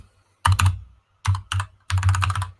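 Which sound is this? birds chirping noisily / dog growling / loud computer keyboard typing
loud computer keyboard typing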